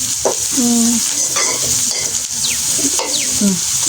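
Ingredients for egg devil sauté in a pan with a close, loud sizzle, broken by intermittent stirring scrapes and brief clinks, with no speech heard.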